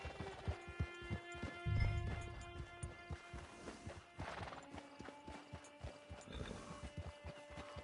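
Horse hooves clip-clop steadily in a PS4 video game camp scene, a quick rhythmic string of distinct hoofbeats with a brief whinny and some clanking harness sounds, fairly quiet and close, no talking.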